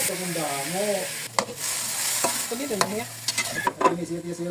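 Potatoes frying with onions in a pan for corned beef give a steady sizzle under intermittent stirring clatter, while a voice speaks over the cooking in short bursts.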